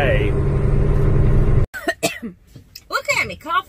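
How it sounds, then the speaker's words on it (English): A single person coughs and clears their throat sharply and close up, followed by someone talking. "Look at me, coughing in your face."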